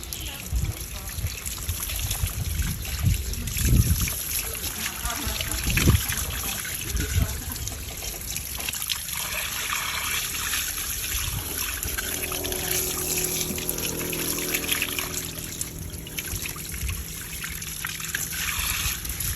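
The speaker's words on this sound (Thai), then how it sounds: "จากนั้นเราก็ ใช้ น้ำนะคะ ผสม น้ำยาล้างตามปกติได้เลยค่ะ" Water mixed with dish soap trickles and splashes while asphalt tar is washed off a surface, a steady close wet stream with scattered louder splashes, no talk.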